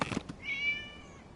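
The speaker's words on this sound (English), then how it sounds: "It was just a cat." In the Genshin Impact video game, a cat gives a single drawn-out, rising-then-falling meow after a couple of brief soft thumps, clear and fairly close against a quiet background.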